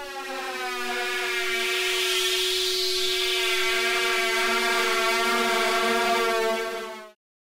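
Synthesized sound effect built in Serum, a layered tone through a resonant filter with resonance at maximum and light drive; a steady, loud harmonic drone with a sweeping filter peak, sustained about seven seconds before cutting off abruptly.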